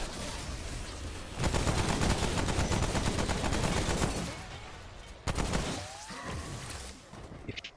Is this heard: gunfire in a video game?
yes